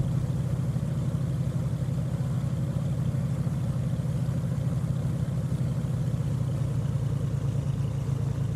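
Aircraft engine idling steadily while taxiing in the Prepar3D flight simulator, a continuous low droning hum with a faint buzzy pulse, moderately quiet and unbroken by talk.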